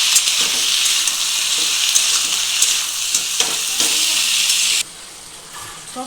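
Mixed vegetables with chopped tomatoes sizzle loudly in a hot pan for a long stretch, with scraping stirs, then the frying drops suddenly to a quieter hiss near the end.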